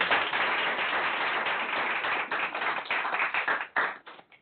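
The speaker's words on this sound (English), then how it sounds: "Let's give her a big round of applause." A conference audience gives a round of applause at a corporate Hispanic employee group event: dense, steady clapping fills the room, then thins into scattered individual claps near the end.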